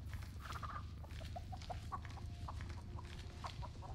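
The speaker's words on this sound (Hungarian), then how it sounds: "Megöltem egy csirkét, mert túl hangos volt." Chickens in The Texas Chain Saw Massacre video game clucking in short, repeated bursts over a steady low background drone, fairly close and continuous throughout.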